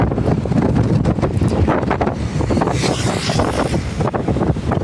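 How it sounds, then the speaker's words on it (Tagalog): Strong coastal wind by the Kapurpurawan rock formation in Burgos, Ilocos, buffets the microphone continuously with a loud, rumbling roar, gusting throughout with no pause. "grabe yung hangin"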